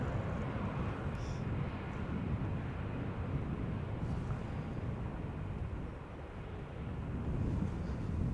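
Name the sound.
airliner at Schiphol Airport, Airbus A320neo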